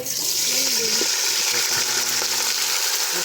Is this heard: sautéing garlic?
yes